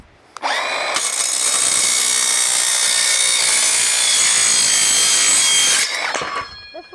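A power saw blade slices through steel siding in one straight, continuous cut, a loud, steady, bright metallic grinding whine lasting about five seconds, with a brief start and a tapering stop, close by and with no talking.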